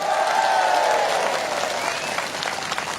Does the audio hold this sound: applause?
yes